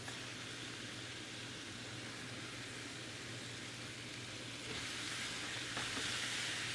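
Onions sizzling as they go into a pot of Louisiana jambalaya, a steady broadband hiss over a low hum that swells a little louder near the end, with no talking.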